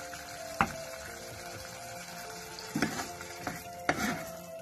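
Sri Lankan mango dry fish milk curry slow-fries with a soft, steady bubbling sizzle, broken by a few sharp spoon-on-pot clinks and stirring scrapes, close and quiet, without talk.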